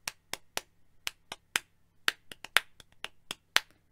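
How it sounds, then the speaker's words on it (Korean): Sharp hand claps keep time with a spoken children's folk rhyme about hand and foot clapping, about a dozen crisp, evenly spaced claps close to the listener with no voices over them. "박수와 함께 말리듬을 익혀봅시다"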